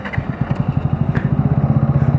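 Motorcycle engine revving hard as the rider pulls a wheelie, a loud, close, rapidly pulsing exhaust note that stays steady throughout.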